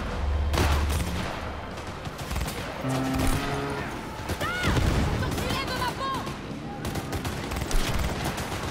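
Gunfire and grenade blasts in the video game Cyberpunk 2077, a dense run of rapid shots and booms with game music and effects layered underneath, and a voice talking over the action.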